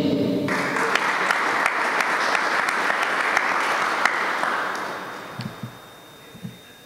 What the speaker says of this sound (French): ouvrir les rideaux de cette célébration par un tonnerre d'applaudissements pour l'école mère